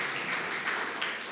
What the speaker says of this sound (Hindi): तो क्यों ना हम उनके लिए जोरदार ताली बजाते हैं।